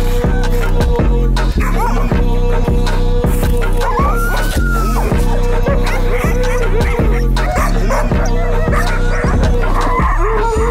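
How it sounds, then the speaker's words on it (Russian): Sled dogs at a snowy camp in Chukotka bark and yip steadily, with whimpers mixed in, a dense loud chorus of several dogs close by that keeps going for the whole stretch. "чувствует себя в целом собаки прекрасно"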